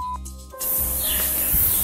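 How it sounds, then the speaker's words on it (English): A steady, loud hiss of a spray gun spraying roof sealant starts abruptly after a brief quieter moment and continues without break. "the spray gun's harder than I thought it would be"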